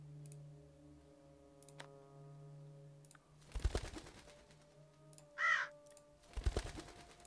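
A crow caws once in The Huntsman: Winter's Curse video game, a short rasping call near the middle, set among sparse clicks and thumps over a quiet low game hum.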